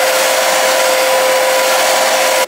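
A hair dryer blows steadily on a 30-inch body wave lace frontal wig, a loud continuous whooshing drone with a faint whine that runs unbroken and cuts off abruptly at the very end.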